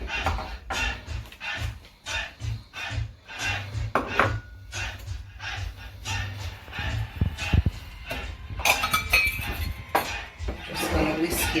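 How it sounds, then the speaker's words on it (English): A whisk scraping and clinking around a bowl of dry flour, salt and sugar for Jamaican beef patty dough, a rapid irregular run of taps and rasps up close, growing busier and louder toward the end. "Just going to whisk in all of those dry ingredients just to make sure everything is combined together properly"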